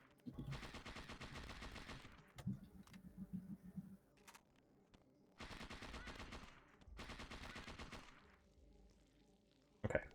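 Rapid automatic gunfire in the video game Parasite Eve 2, several loud sustained bursts of rattling shots separated by short pauses, with a sharp final crack.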